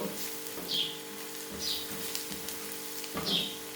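Spices being stirred into cabbage masala frying in a pan, with a steady sizzle and three distinct scraping strokes of the spoon spaced about a second apart, close by and with no talking.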